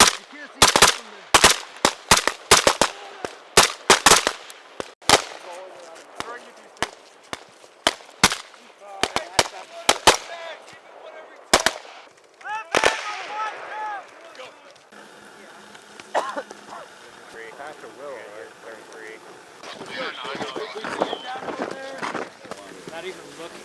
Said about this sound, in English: that gun back in the fight, Puckett.